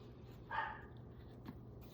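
Small dog barking in the background of an indoor room, a single short yap burst followed by a fainter one, alone over steady low room hum.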